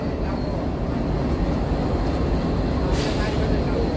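A long train approaches at Siliguri railway station as a steady low rumble, with a voice talking over it.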